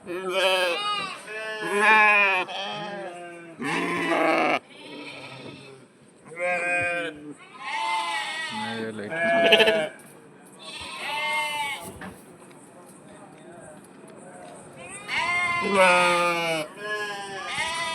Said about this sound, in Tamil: கீழே பார்த்தோம்னா ஆடு எல்லாம் கத்த ஆரம்பிச்சிருச்சு